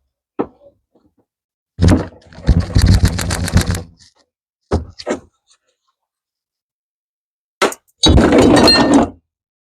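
A small BB-like ball rattles out of a GM steering box during a rebuild, giving a close, loud clattering burst of metallic rattles, a few sharp knocks, then another rattling burst, with no talking.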